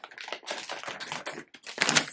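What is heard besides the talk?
crinkling plastic bag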